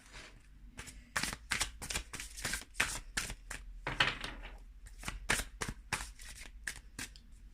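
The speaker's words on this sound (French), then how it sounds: "quand je bats les cartes là" Tarot cards shuffled by hand in rapid, irregular riffling bursts, close and crisp, with no talk over them.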